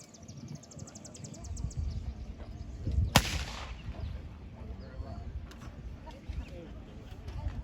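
A single sharp, loud report from a WW2 anti-tank gun firing a blank round cracks out midway, with people talking quietly in the background before and after the shot.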